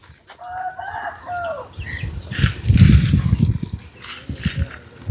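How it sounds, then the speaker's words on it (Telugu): A hen near a garden of plants gives a few close, clear clucking calls at the start, followed by rustling, thumping movement noises nearby. "అలా కోడి చూడండి ఎంత ముద్దుగా ఉన్నదో"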